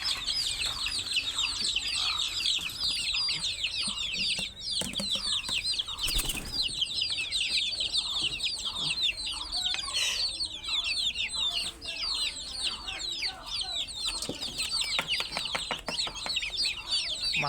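Native desi chickens and chicks on a small backyard farm, a dense continuous chorus of peeping, clucking and chirping close by, with occasional wing flaps and rustling.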